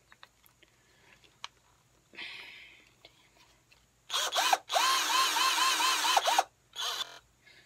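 A new power drill spins up close by in a short burst, then runs in a longer steady whine before stopping, with a brief final spin and some quiet vocal sounds beforehand.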